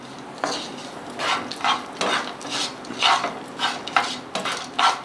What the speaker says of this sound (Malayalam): എന്നിട്ട് നന്നായിട്ട് മിക്സ് ചെയ്ത് കൊടുക്കുക.